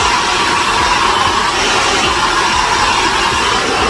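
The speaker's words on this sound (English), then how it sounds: "I'm blow drying this." A hair dryer blows steadily and loudly, close up and alone, as hair is blow-dried straight, a constant whooshing roar with no breaks.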